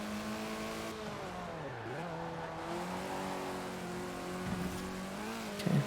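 A car accelerating down the Royal Mile in Forza Horizon 4: steady engine drone with rising and falling rev tones, a dip as it shifts or brakes, then climbing again, loud and continuous with a brief thump near the end.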